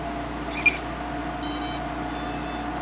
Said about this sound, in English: you want to listen to the beeps